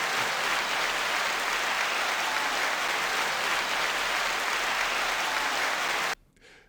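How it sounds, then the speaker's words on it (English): Steady, dense applause from an audience fills about six seconds at an even level, then cuts off abruptly into near silence. "9-second applause"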